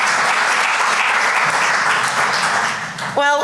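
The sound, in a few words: audience applause at London Games Festival summit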